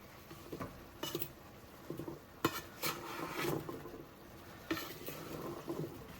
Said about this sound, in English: I'm gonna go ahead and put my potatoes into my ground beef